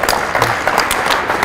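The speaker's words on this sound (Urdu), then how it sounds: "ان کے لیے تالیاں" An interview audience applauds for a student who scored full marks, a steady, dense clapping that holds at even loudness throughout.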